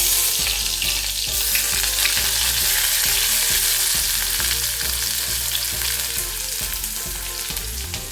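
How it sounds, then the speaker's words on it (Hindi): Sliced onions fry in a pan with a loud, dense sizzle and crackle, with steady stirring taps and scrapes of a utensil against the pan underneath, close up and without speech. "तो सबसे पहले ये स्लाइस किए हुए प्याज हम इसको डाल देते हैं।"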